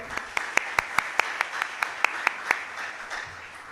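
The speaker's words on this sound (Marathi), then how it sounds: "श्रुतिकासाठी टाळ्या वाजवूया आपण" A church congregation at a New Year worship service claps together in a steady, even rhythm, about a dozen crisp beats in a row that fade out near the end.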